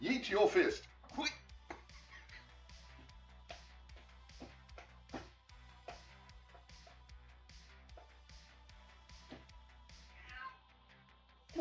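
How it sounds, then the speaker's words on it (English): A house cat named Ziggy meows loudly at the start, then gives softer meows later. A faint clicking pulse runs underneath the whole time. "She's actually meowing loud enough for me to hear."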